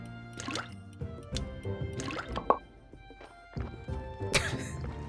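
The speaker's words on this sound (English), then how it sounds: "Standing in front of the dairy farmer, just pouring the bucket of milk into jugs." Milk poured from a bucket into jugs in Graveyard Keeper gives a few short, separate glugging and dripping splashes, fairly quiet with gaps between them.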